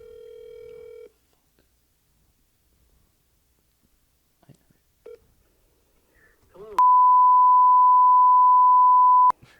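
A telephone call placed on speakerphone: a short ring tone opens, followed by near silence with faint scattered sounds, then a loud, sustained electronic beep lasting almost three seconds.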